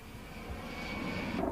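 Steady roar of an A-10 Warthog low-level strike aircraft's jet engines, a continuous loud rushing drone that builds slightly toward the end, heard alone without voices.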